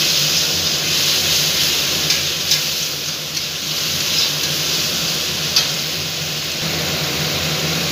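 Broad beans and potatoes frying for a fish curry hiss loudly and steadily in the pan, with occasional faint stirring knocks over a continuous, close sizzle.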